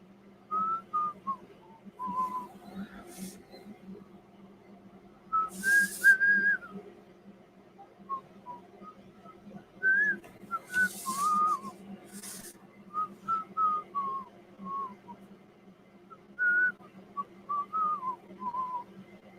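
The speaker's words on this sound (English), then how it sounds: "If that whistling is too ear piercing, I apologize" A person whistles a wandering, high melody in short phrases, clear and close against a quiet background hum, with pauses between bursts.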